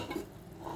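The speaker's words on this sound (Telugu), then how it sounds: "ఇప్పుడు వేడి అన్నం వేస్తున్నాను." Hot cooked rice tipped into a pan of fried mint paste, giving a short soft scrape and stir with faint sizzle, quiet and close, no talking.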